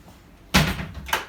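The bow block-off door on a 2020 Grady-White Freedom 275 twin-engine boat swings shut with a solid thud, followed by a second, lighter knock about half a second later.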